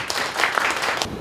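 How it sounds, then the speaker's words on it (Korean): Applause from reporters and attendees at a Korean sports-civic press conference over a sports association election, a brief dense burst of clapping heard up close with no talk over it. "여러분 제의가 맞으면 박수 한번 세게 해주십시오."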